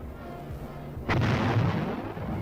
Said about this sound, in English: The tanks move up to new positions nearer the ridge and continue to blast away at the communist emplacements.